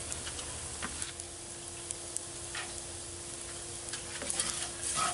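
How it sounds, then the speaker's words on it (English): Flour browns in hot oil in a pan for sausage gravy, giving a quiet, steady sizzle with occasional light stirring ticks and scrapes. "So I'm just going to give that a few minutes to brown the flour."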